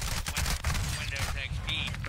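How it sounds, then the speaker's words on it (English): Bursts of rapid video game gunfire, close and steady across the whole moment, with a voice talking over the shooting. "Hey, stop fucking shooting at me,"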